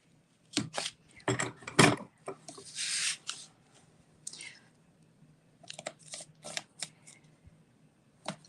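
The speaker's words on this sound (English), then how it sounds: "So that's why I'm cutting" Designer series paper is cut for a shaker card, with crisp, close snips and rustling paper handling in short clusters and pauses, alongside soft desk noises.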